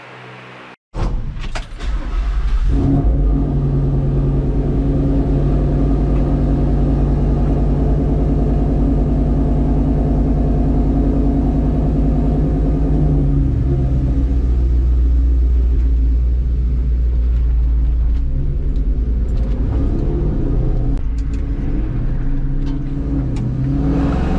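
An eight-cylinder car pulls out onto the road after a door sound, its deep engine rumble steady and loud as it cruises for over twenty seconds, with slight rises and falls as it goes.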